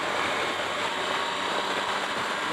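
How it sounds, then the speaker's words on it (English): Steady broadband wind rush on a 2018 Triumph Tiger 1200 XCa motorcycle ridden with its windscreen raised, a constant even roar with a faint engine drone beneath, no talk. "So you can hear the difference in the sound, the noise of the wind."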